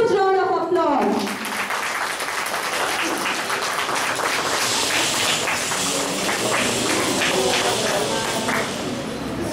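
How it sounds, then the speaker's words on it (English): An audience gives a big round of applause for children coming on stage at a school event, sustained clapping filling the room throughout after a brief spoken lead-in. "let's welcome our B-Bag children on stage with a huge round of applause."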